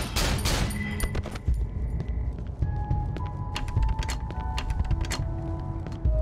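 Rapid bursts of gunfire in the horror video game Cry of Fear, a dense volley of shots crowding the opening second and then scattered sharp reports continuing over a humming game soundscape.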